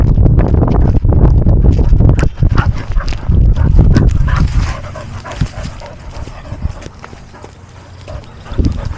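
A dog on an outdoor camp adventure whimpers and makes small vocal noises amid loud rustling and movement close by, which settles quieter toward the end.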